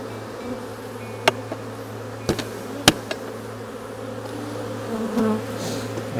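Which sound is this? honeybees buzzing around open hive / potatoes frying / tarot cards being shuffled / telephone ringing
honeybees buzzing around open hive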